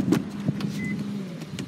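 A power liftgate on a 2016 Subaru Outback runs with a steady low electric motor hum, a few light clicks over it, close and short.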